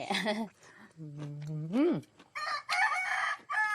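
A rooster crows in a rural Thai village setting, a long rising and falling call near the middle, with other crowing bursts and clucking fowl around it and people talking at the start and end.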